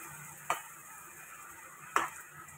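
Fish curry sautéed and stirred in a pan, with two distinct spatula scrapes against the pan over a quiet background hiss of cooking.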